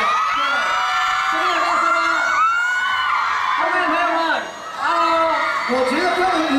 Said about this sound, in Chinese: 因为他的尖叫声都很大声